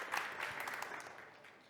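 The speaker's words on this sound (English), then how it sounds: "A round of applause." Brief, faint audience applause at a startup showcase conference as a speaker is welcomed on stage, scattered claps that quickly thin out and fade.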